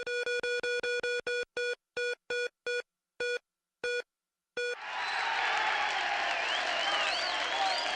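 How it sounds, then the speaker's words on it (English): A studio crowd breaks into loud, sustained cheering and applause right after a run of regular electronic beeps that slow and stop, the clapping and whoops filling the room up close. "And as always, the crowd goes wild"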